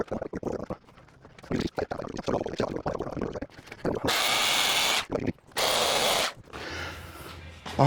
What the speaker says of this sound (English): So I'm going to drill all these holes, these crosshairs that I made